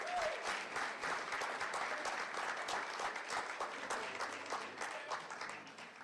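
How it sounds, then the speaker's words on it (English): At a college signing day, an audience claps for incoming associate degree nursing students with sustained, even applause that tapers slightly at the close. "Ladies and gentlemen, please join me in applauding the next generation of associate degree nursing students."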